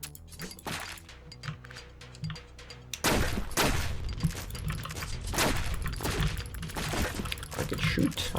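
Video game DUD firing rapid bursts of gunfire, a lighter patter at first, then a denser, louder barrage of overlapping shots and impacts from about three seconds on.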